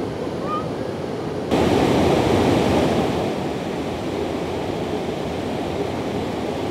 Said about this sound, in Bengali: দেখো পানির সাউন্ড, কত সুন্দর সাউন্ড